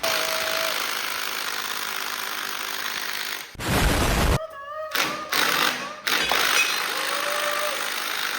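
A loud power tool bursts in short runs of rapid hammering impacts, stopping and starting several times against steady outdoor background noise.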